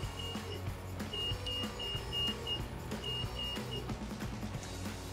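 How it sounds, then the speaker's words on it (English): A Snorkel electric scissor lift drives and steers during a pre-start inspection, giving a steady electric motor whine with repeated beeping tones throughout, close and continuous. "Then we'll steer it left and right."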